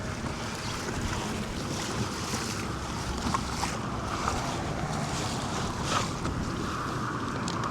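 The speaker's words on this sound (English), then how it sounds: "Wind's picked up quite a bit. It's windy before, now it's cranking." Strong wind buffets the microphone continuously while kayak fishing on open water in the Florida Keys, with steady loud roaring, waves and water splashing against the hull, and gusts swelling every few seconds.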